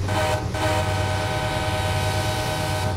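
A GE U30B locomotive in Train Simulator 2016 on the Feather River Canyon route drones steadily with a deep, continuous diesel rumble and tonal engine hum, loud and close throughout.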